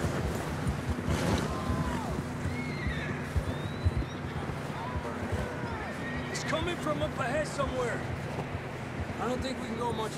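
Horses whinny several times over ambient outdoor noise in the video game Red Dead Redemption 2, with hooves clopping and a wind-like rush in the background; a voice briefly speaks.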